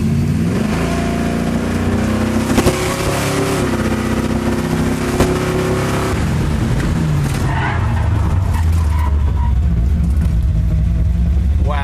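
A car fitted with a CPP Hydra Stop brake booster is driven and braked hard. A loud, close engine rumble carries throughout, with revving and skidding tyre noise, and the engine settles into a lower drone toward the end.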